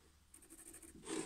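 Pencil marking lines onto rustic pallet wood battens, a short run of faint, quick scratchy strokes followed by a slightly louder rub at the end, close and quiet with no talk.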